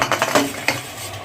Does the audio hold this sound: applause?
no